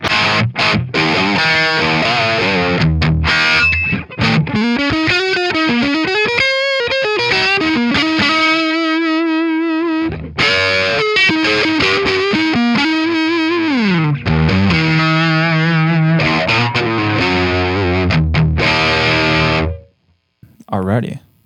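Electric guitar run through a Friedman IR-X, loud, distorted and chorused, with bending sustained lead notes and chords over about twenty seconds before cutting off.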